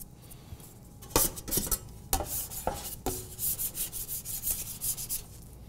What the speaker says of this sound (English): Then I'm gonna get a bench scraper